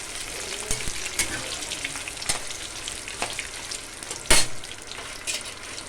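Fenugreek, mustard seeds and dried red chillies fry in a pan for gongura chutney, giving a steady close sizzle with scattered pops and crackles and one sharper spatter near the end.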